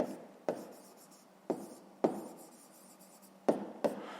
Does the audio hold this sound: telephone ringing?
no